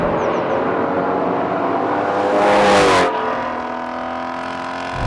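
Shelby GT350 with a 5.2-liter flat-plane-crank V8 revs up loudly and close, its shrill exhaust note climbing to a sharp peak, then falling back to a steady high idle.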